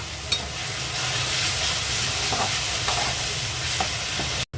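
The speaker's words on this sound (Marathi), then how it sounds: "बारीक कापलेला कांदा आहे. कांद्याला व्यवस्थित लालसर होजेपर्यंत भाजायचा" Finely chopped onion frying in a few spoonfuls of oil until reddish, giving a continuous close hiss of sizzling with occasional spoon scrapes and soft stirring knocks, ending abruptly.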